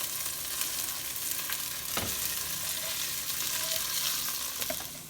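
Ginger and chopped green onions frying in a pan for ramen, a steady close sizzle broken by occasional scrapes and clinks as a utensil stirs them.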